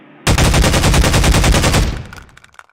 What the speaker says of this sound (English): let's use the Overwatch pulse rifle to fire some shots.